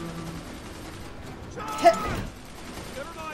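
A gunner fires in the video game Tales from the Borderlands, with a short burst of gunfire and a sharp impact near the middle over busy background game sound.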